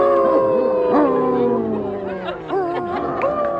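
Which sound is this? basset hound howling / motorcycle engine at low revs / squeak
basset hound howling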